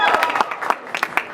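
A theatre audience at The Mystery of Edwin Drood gives a short, scattered round of clapping, with individual claps distinct against light crowd murmur.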